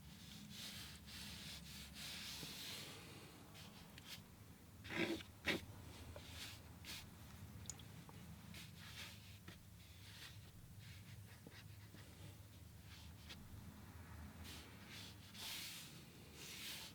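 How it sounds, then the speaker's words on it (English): Quick pencil scratches drawing hair on a black-and-white portrait of a rock star, a soft steady rubbing hiss with a couple of brief louder strokes near the middle, close and fairly faint. "I'm just going to do some quick scratches here for the hair"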